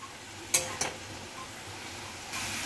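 Coriander being stirred into radish chechki in a pan: two quick scraping clinks of a utensil against the pan, then a soft continuous sizzle that swells slightly near the end.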